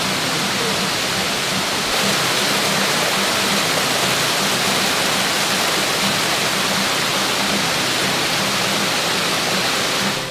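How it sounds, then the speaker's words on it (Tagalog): Kaparkan Falls in Abra pours in a loud, unbroken broadband roar of cascading water, steady and close, with no voices. "Sa Bukal, nanggagaling ang tubig ng Kaparkan Falls na bumababa hanggang sa Tinig River."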